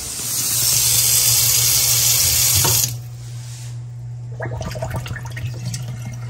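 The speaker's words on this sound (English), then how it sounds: "Water's draining." Water gushes loudly into a sink fitted with a garbage disposal for a few seconds, then stops abruptly, leaving quieter gurgling as it drains away.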